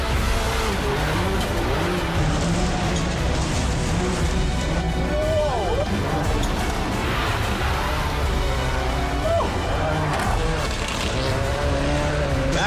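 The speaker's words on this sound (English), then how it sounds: "Nice tight donuts here around this feature." Car at a Battlecross event doing tight donuts around a course feature: a steady, loud engine drone with repeated tire squeals and skids, while a commentator talks over it.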